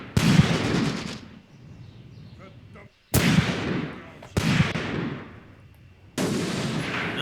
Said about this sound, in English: Firing the anti-tank rifle at the enemy